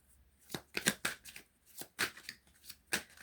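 Business Tarot cards being shuffled, a series of soft, quick riffling and slapping bursts at close range, with no talking.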